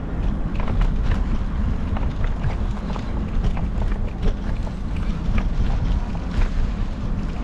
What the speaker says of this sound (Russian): Вот, в принципе, слышен шум трассы.